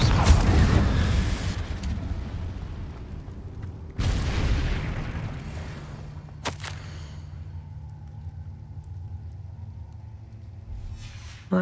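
Confringo blasting spells explode in Hogwarts Legacy, with deep booming blasts that trail into long rumbling decays. A second sharp blast hits around four seconds in, followed by a crack and fading debris, with no talking.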